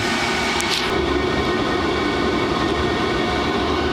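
A Chinese diesel parking heater runs on diesel with its original fuel pump, giving a steady, loud whooshing combustion roar and fan drone throughout, with a short higher whine near the start; no voices.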